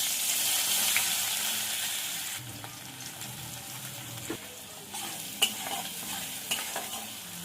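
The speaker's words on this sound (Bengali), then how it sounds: "এবার পেঁয়াজ কুচি দিয়ে দেবো" Chopped onion dropped into hot mustard oil with cumin seeds for a spicy jackfruit curry, giving a loud burst of sizzling that settles into a softer hiss broken by occasional stirring clinks.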